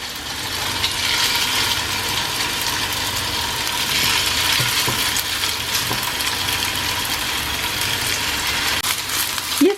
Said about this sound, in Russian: на разогретую сковородку выкладываю котлеты